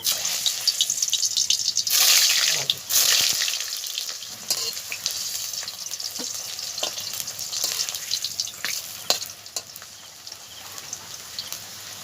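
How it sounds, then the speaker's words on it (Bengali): Taro pieces fry in mustard oil in a wok, sizzling and crackling steadily, with a louder burst early on and scattered pops and stirring sounds throughout. "এবারে মানকচুগুলোকে আমি ভেজে নেব"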